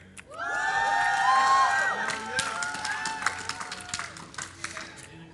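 At an esports tournament, the IPL3 event in Atlantic City, a crowd erupts in loud cheering and whooping that swells then fades into scattered claps and shouts, with a voice sounding faintly beneath.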